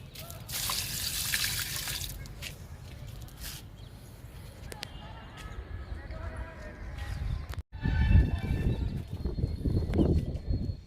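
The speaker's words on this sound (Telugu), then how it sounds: "లిక్విడ్ కూడా ఇస్తున్నా." Homemade liquid fertilizer is poured onto garden plants, with uneven trickling and splashing that grows fuller and louder toward the end, and a person talking over it.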